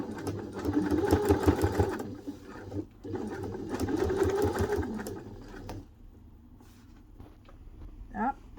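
A sewing machine stitching a messenger satchel bag runs in two steady bursts of rapid mechanical whirring, close by, then stops; a brief rising whine follows near the end.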